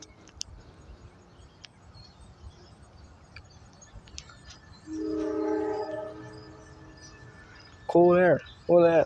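A Norfolk Southern grain freight train with four locomotives, including an SD70M, rumbles steadily past in the middle of the clip. Two loud horn blasts follow near the end, and someone talks faintly over it.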